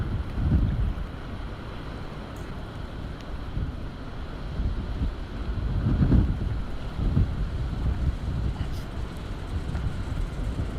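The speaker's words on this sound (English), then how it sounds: "with the way the wind's treating us right now" Wind gusts across a lake in Ontario during a boat outing, buffeting the microphone in low, rumbling surges that swell and fade, with occasional faint voices.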